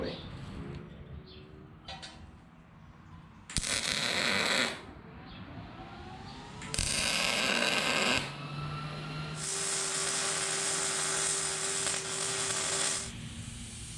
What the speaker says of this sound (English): Grind that weld off the back there so this can sit flush up against it.